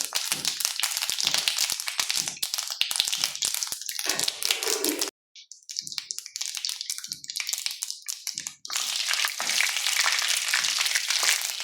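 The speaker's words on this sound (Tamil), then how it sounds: "கடுகு நல்லா பொரிஞ்சதுக்கப்புறம் சீரகம் கொஞ்சம்" Mustard seeds and cumin spluttering in hot oil give dense, loud crackling and popping that briefly drops away, then resumes at full intensity, with no talk over it.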